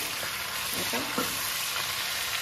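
Pumpkin and potatoes frying in duck fat with spices in a pan for a spicy Assamese duck curry, a steady close sizzle with a few brief stirring scrapes and no talk.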